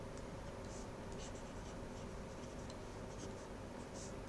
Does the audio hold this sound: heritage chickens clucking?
no